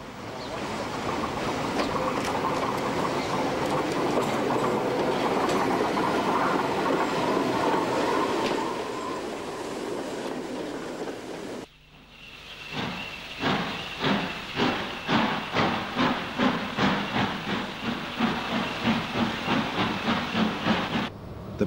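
A steam locomotive, the Metropolitan Railway electric engine Sir Ralph Verney, arrives at Rickmansworth station from Baker Street: a long steady hiss and rumble, a sudden break, then a rhythmic series of loud chuffs and wheel beats nearby.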